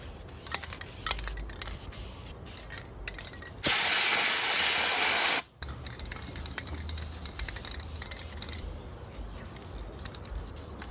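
A short burst of aerosol degreaser sprayed onto a Nissan L28 inline-six cylinder head, a loud continuous hiss lasting about two seconds, close up, set between quieter clicking and tapping work sounds.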